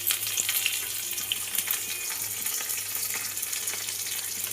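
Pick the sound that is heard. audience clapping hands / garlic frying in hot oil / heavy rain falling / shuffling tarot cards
garlic frying in hot oil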